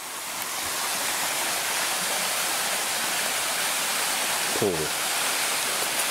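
A waterfall on a steep mountain hiking trail up Mount Hasso in Inuyama, Aichi, gives a steady, dense rushing roar throughout, with a brief spoken word near the end.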